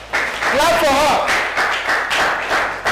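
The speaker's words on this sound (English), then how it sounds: "Let's clap for her. Clap for her!" Applause from a classroom audience of students after a girl is called forward to answer a question; steady broadband clapping fills the whole stretch, with a voice sounding briefly over it near the start.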